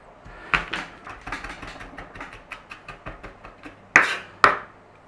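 A knife chops garlic on a cutting board, a run of steady, fairly close taps with two sharper, louder strikes near the end.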